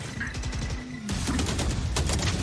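Gunfire in a Valorant esports match, rapid repeated shots in a quick burst followed by a louder cluster of cracks, with game sounds around them and no clear talk.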